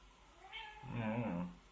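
A cat gives one drawn-out meow that rises and then falls, close and fairly loud, with nobody talking over it.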